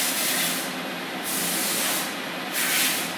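An Okuma Crown 762-SB CNC turning center with its spindle running at 1,000 RPM, heard as a loud, steady hiss of rushing air and coolant spray that swells and fades in waves, with no talk.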